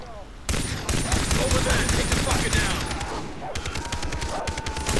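Rapid bursts of gunfire in the video game Far Cry 3 during co-op play, loud and dense, breaking out suddenly after a quiet start and continuing in clustered volleys with a brief lull, while voices talk over it.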